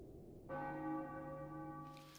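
A single bell strike rings out in the video game Final Fantasy IX, a clear pitched tone with bright overtones that starts sharply and hangs steadily, sustaining for nearly two seconds without fading.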